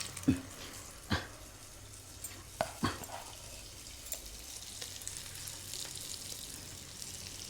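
Vadas slipping into hot oil set off a steady crackling fry, with a few sharp splashy pops near the start settling into a soft continuous sizzle, nearby and fairly quiet, with no talk.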